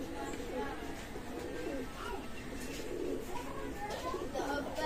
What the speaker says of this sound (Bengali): দেখেন এত সুন্দর রানিং পেয়ার কবুতর 4000 টাকা